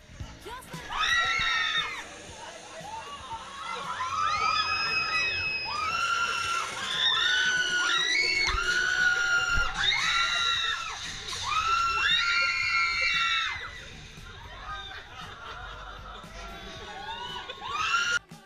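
A crowd on Disney's Tower of Terror ride screams in bursts, with many high, shrill voices shrieking together in waves that rise and fall over the drop sequence.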